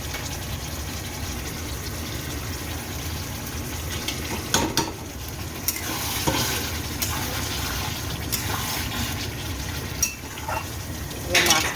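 Brinjal sautéing in mustard paste in a pan, a steady close sizzle and frying hiss with occasional stirring scrapes, continuous throughout.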